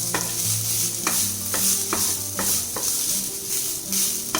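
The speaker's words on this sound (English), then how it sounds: "Let the tempering get nicely mixed with the rice." Lemon rice with its tempering is stirred in a pan over a low sizzle, a spoon scraping and knocking in a regular rhythm, close and clear, with no talking.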